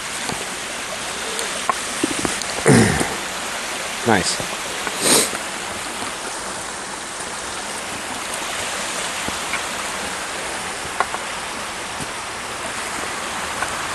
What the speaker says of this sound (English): So I make my way across this creek.